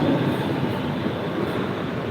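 Steady, loud rumble and rattle of a Brooklyn-bound New York subway C local train, heard from inside a car while riding, with a continuous roar and no voices.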